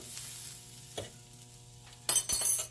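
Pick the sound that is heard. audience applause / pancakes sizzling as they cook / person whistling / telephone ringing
pancakes sizzling as they cook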